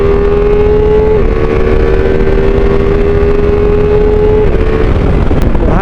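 A 2025 Ducati Multistrada V4S cruises in sixth gear at 90 km/h, its V4 engine holding a loud, steady drone under rushing wind, with a slight shift in pitch partway through.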